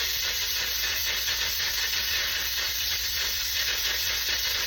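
A pressure cooker cooking beef kaldereta vents steam in a continuous, loud, close hiss that holds steady throughout with no talking.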